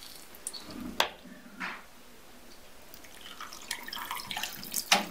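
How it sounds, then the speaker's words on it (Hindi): A glass of water poured into a simmering potato and pea curry (aloo matar), heard as a few brief splashes and drips spread over several seconds, with no talking. "हमने ये इसमें 1 ग्लास पानी डाला है"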